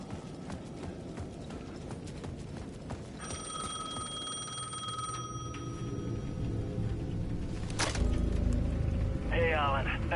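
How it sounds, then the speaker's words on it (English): A payphone rings in the Alan Wake 2 video game with a steady electronic bell tone for a couple of seconds over a busy background of clopping and ambient game noise. "The payphone at the edge of the plaza was ringing again."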